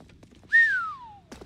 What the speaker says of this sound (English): Whistling down a mic is really nice as well.